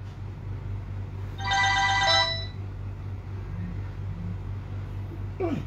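A telephone rings with an incoming call, one loud trilling electronic burst lasting under a second against a steady low engine-like hum.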